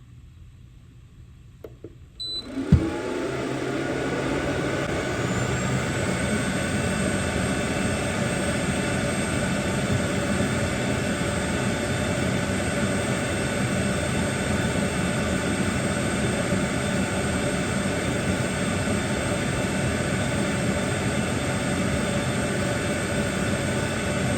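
An xTool F1 laser engraver starts with a click and then runs steadily, a constant fan-like whir with a faint high whine that continues evenly throughout.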